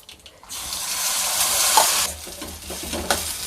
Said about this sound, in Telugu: తాలింపు ఇప్పుడు బాగా వేగింది కదా, మనం ఈ మిశ్రమాన్ని ఇందులో వేసేసుకోవాలి